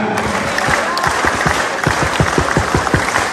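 Rhythmic group clapping of the Indonesian scout clap (tepuk pramuka) at a political rally in Banten: a sharp, evenly spaced beat that quickens toward the end, carried by a large crowd over a bed of scattered applause.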